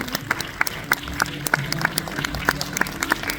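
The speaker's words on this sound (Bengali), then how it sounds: "যদি সবাই একটু হাততালি দেওয়া যাক" Scattered, fairly sparse clapping from a small audience at a music video premiere, with individual sharp claps standing out over a low room murmur.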